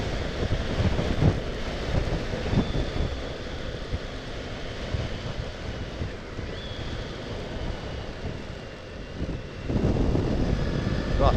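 Gusty wind buffets an outdoor microphone with continuous low rumbling roars that swell and ease, loud and close, with no speech.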